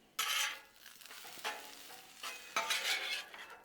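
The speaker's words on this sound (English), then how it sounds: "Let's go ahead and mix these jalapenos up a little bit" Jalapenos being stirred on a hot Blackstone griddle give loud close sizzling bursts with spatula scrapes, several surges of frying noise rising and fading over a few seconds, no talking.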